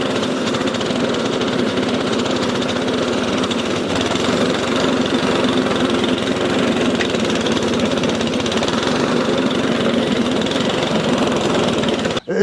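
A Westermann block paving weed ripper machine (petrol/battery models) runs steadily on dock leaves, with a continuous loud, even engine-like drone that holds for the whole stretch and cuts off abruptly at the very end.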